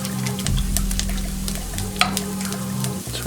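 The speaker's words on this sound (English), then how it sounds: "So basically you're just cooking this down." Vegan cheese sauce bubbles and sizzles as it cooks down and thickens in a pan, a steady close-up crackling simmer with a low hum beneath and occasional small pops.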